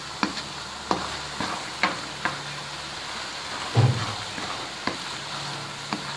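Sarson ka saag, a mustard-greens dish, scraped and dished out of a pan with a spoon in a home kitchen: sharp metallic clinks and scrapes repeat every second or so over a faint background sizzle, with no talking.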